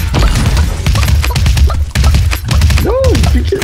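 Rapid gunfire bursts from the battle royale video game Realm Royale, loud and dense with repeated sharp cracks and thuds, and a voice briefly heard over the shooting.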